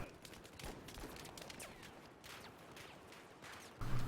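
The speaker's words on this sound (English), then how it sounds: "And there is just so much fucking gunfire." Rapid bursts of distant gunfire in the video game Battlefield 4 crackle and rattle continuously, a dense fusillade heard at low volume with a louder thump near the end.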